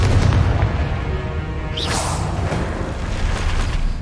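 Spell explosions in the Hogwarts Legacy video game produce deep booming blasts and a sharp whooshing sweep near the midpoint, loud and close, with no voices.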